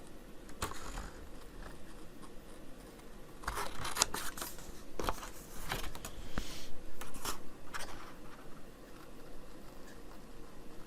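Scissors snip into a paper tag traced from a kit tag, a run of close, crisp cuts and crunchy paper tearing sounds in uneven bursts, with no talking.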